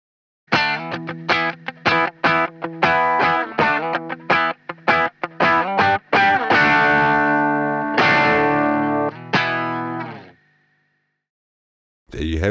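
An electric guitar signal is reamped through pedals and amps, giving distorted, effects-laden notes and chords in a choppy rhythmic pattern, then sustained ringing chords that cut off into silence, loud and close.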